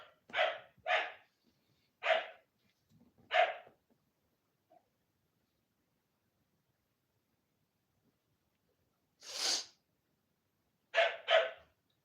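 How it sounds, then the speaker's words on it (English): A dog barks in bursts, several sharp barks close together, a pause, then one more bark and a final quick pair, loud and close in an otherwise quiet room. "Why does my dog always do this?"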